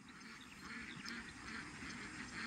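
A flock of ducks at a duck farm keeps up a faint, distant, dense chorus of overlapping quacks.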